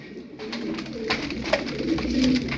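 Tumbler pigeons cooing and fluttering close by, a steady soft murmur of birds with occasional wingbeats, no talking.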